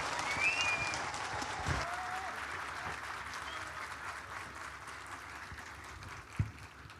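Audience applause fills a hall at a Sarıyer municipal event in Istanbul as the mayor is welcomed to speak, a steady sustained clapping throughout with a couple of brief louder knocks.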